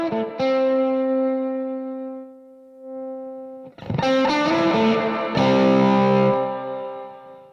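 A heavily saturated guitar amplifier rings out sustained distorted chords and notes, its spring reverb splashing and smearing the sound as a second, louder burst of strummed chords swells and slowly decays.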